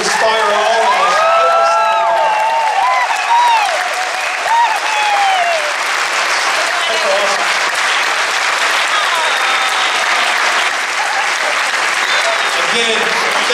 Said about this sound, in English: How about one more round of applause for these kids who inspire all of us?